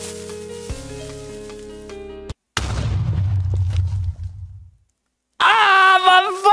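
After a stretch of musical tones, a Minecraft creeper explosion erupts as a deep booming blast that rumbles as it fades into silence, followed by a loud, warbling sound.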